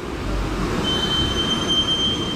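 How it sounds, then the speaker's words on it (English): Loud squealing brakes on Andy's wagon at a busy car wash: a steady, thin, high-pitched squeal begins partway through over a low rolling rumble, with no talking. "Andy has the loudest brakes ever."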